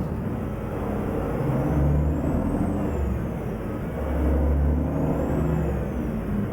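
A modded truck in American Truck Simulator gives a low, steady engine rumble while the brakes are released, with two gentle swells in loudness and a faint rising-and-falling whine above it. Nobody speaks.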